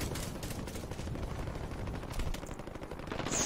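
Gunfire in the Warzone video game: faint, distant shots crackling in rapid, closely packed bursts across a few seconds, with no talking.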